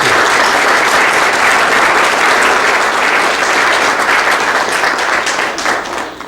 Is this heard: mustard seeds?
no